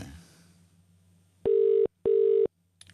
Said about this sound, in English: Oh, we're ringing it. We're just ringing him.